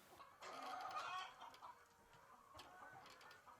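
Chickens cluck at a poultry farm where hundreds of hens are kept, a faint cluster of overlapping calls that swells early and then trails into softer scattered clucks, with no speech.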